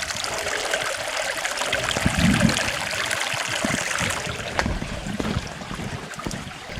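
Spring water flowing out of the ground into a creek on rural California acreage, a steady close trickle and gurgle with light wind and occasional soft knocks.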